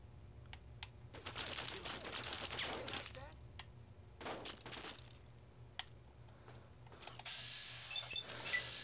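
Gunfire in the video game Fallout 3: several short bursts of shots, some rapid and some single, with crackling impacts, fairly faint and with quiet stretches between them.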